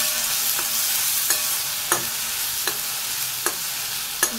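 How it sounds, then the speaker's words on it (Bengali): Tomato paste and masala frying in a pan with a steady sizzle, broken by sharp spoon scrapes and knocks from stirring about every half to one second, close up with no voices. "আর একটু টমেটো বাটা সব দিয়ে ভালো করে মশলাটাকে কষতে হবে।"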